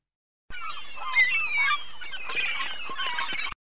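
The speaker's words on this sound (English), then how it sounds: "Seagull." A seagull gives a loud, close series of harsh squawking calls, ringing out alone for about three seconds.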